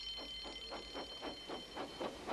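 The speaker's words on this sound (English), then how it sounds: "Soon came the alarm." A soft, repeating alarm pulses in regular beats, about eight short blasts over a couple of seconds, faint and heard on its own.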